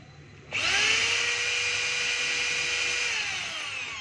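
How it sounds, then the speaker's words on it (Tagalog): DeWalt D25032 rotary hammer set to drill-only mode spins up sharply and runs as a smooth, loud whine with no hammering pulses, then slowly eases off in pitch, close up. "So yun po yung drill mga kabay, ikot lang siya na walang pumapalo"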